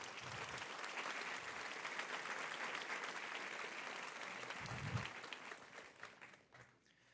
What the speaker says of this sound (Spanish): Aplauso para el Señor, amén.